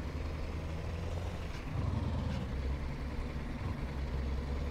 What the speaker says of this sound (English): we got an open pipe engine sound in this one